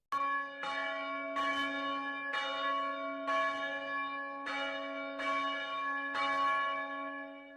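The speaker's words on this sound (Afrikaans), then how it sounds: "Die klokke begin weer saam lui." Several church bells ring together in a steady rhythm of about seven strong, resonant strikes, each clang overlapping the lingering hum of the last, clear and fairly near with no voices.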